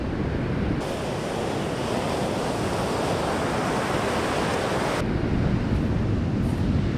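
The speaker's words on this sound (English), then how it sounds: "Look at that surf." Ocean surf washes onto a warm beach at a fishing spot, a loud, steady roar of breaking waves with wind noise that fills the whole stretch without a break, and no voices.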